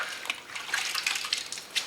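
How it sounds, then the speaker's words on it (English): Water trickles steadily down the body panel of a 1962 Ford Galaxie during wet sanding with a soaked sponge and sandpaper, a soft continuous splash with small drips close by and no talking. "And just let that water run down there nice and easy like that."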